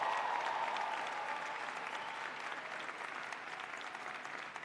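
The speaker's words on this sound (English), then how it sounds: "Let's have a huge round of applause for the Miami-Dade College class of" A large audience at the Miami-Dade College Wolfson and Hialeah campuses commencement claps for the graduating class of 2016, sustained dense applause that gradually thins and fades.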